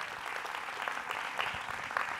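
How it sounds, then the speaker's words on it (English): Audience applause at a UCSD Green Talks event, a dense steady wash of clapping holding at moderate level from start to finish with no voices on top. "give a round of applause to all the people that organized this event."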